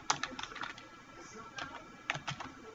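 Typing on a computer keyboard while entering spreadsheet labels, soft scattered key clicks in short bursts, fairly faint and close, with no talk over it.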